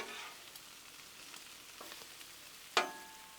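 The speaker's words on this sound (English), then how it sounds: "while the shrimp's over here cooking, be sure to come over here and just kind of gently stir this around also." Shrimp and sausage on a Blackstone griddle give a faint, steady sizzle with soft scraping stirs and one sharp clatter of a utensil near the end.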